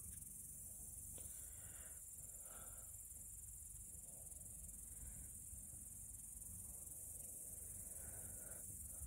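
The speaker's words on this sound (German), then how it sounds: "Da gucke ich mir gerade den Sonnenuntergang an und höre die Grillen zirpen." Crickets chirping at sunset outdoors near Furtwangen, a continuous high insect trill held steady throughout, with faint low background rumble beneath.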